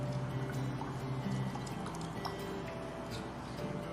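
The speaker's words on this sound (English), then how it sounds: "Okay, so we're gonna add the water." Water is poured into sugar-sweetened tamale dough, a quiet steady splashing stream over a faint humming room background, with no talking.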